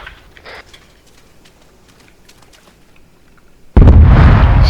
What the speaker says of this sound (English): Explosion south.